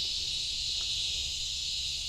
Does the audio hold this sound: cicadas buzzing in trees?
yes